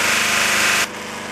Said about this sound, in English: I'm just about to start polishing it on the polishing mop